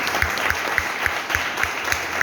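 Applause from an audience, a dense patter of many hands clapping continuously at moderate loudness, with a few sharper regular thumps standing out beneath.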